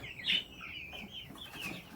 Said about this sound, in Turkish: Şurada güzel horozlarımız var. Kendini gösteriyor.